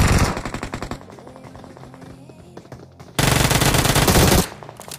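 Gunfire in a battle royale video game: a loud automatic burst, then softer scattered shots, and finally another sharp, dense rapid-fire volley that cuts off abruptly.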